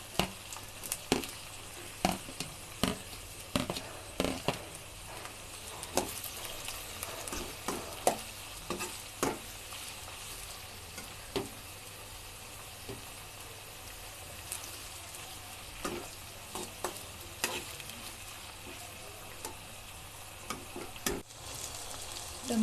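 Onion and tomato fry in a pan for an egg bread upma, a soft ongoing sizzle punctuated by repeated sharp spoon taps and stirring scrapes against the metal, no one speaking.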